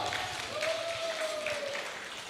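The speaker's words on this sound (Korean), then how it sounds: "큰 박수 부탁합니다" A crowd claps steadily for a couple of seconds, a dense patter of applause with a faint tonal hum running underneath.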